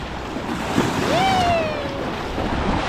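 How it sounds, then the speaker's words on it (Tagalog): Ocean waves washing at the shore with wind buffeting the microphone, a steady rushing surf under a voice calling out. "Nay, may alon."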